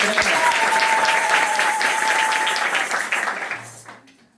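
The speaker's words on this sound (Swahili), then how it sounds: "Kwa hivyo tupigieni hata wageni makofi" Congregation at Kakalel Catholic Church in Lodwar applauding to welcome guests during Sunday Mass, a dense, loud burst of clapping that holds steady, then thins and fades out.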